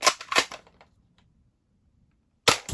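A Nerf Dinosquad Raptor Slash toy blaster fires in quick pairs of sharp, snappy pops, two at the start and two more after a quiet gap, loud and close.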